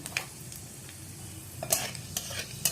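Dried red chillies and five-spice seeds fry in hot oil left from frying a fish head, a quiet sizzle broken by crisp bursts of popping and a few utensil scrapes on the pan.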